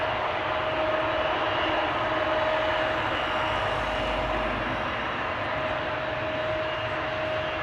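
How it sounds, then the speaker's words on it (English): An Embraer 190 jet, registration PH-EXU, at Amsterdam Schiphol gives a steady, loud engine roar with a sustained whine held throughout, with no voices over it. "This is the PH-EXU, another Embraer 190."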